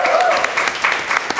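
A TV talk show studio audience claps and cheers in a dense, loud burst that carries on the whole time.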